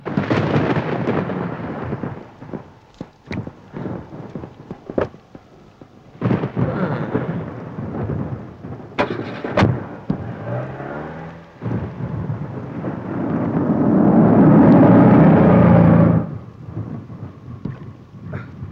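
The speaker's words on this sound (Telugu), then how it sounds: "బయట తుఫాన్ అని అనౌన్స్ చేశారు" Heavy rain pours steadily while loud thunder cracks and rumbles several times, close and booming, with a rising roar of downpour toward the end.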